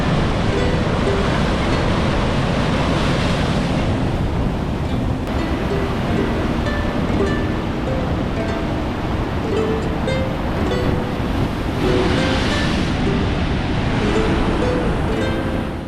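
Heavy ocean surf crashes and churns continuously at a beach rock pool, a loud close roar of water with wind buffeting the microphone and swells surging throughout.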